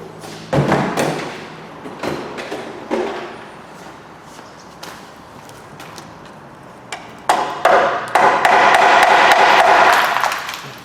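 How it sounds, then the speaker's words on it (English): Irregular hammer strikes ring on a metal bar while removing a leaking oil sump pan from a Fiat Grande Punto, scattered taps at first, then a louder, denser burst of blows toward the end. "Get a bigger hammer. What am I tapping it with that for?"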